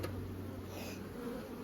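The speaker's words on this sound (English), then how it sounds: "We want all the bees in this world we can get." Honey bees hum in a dense, steady drone at an open beehive, close and continuous, with many wings buzzing together and no talking.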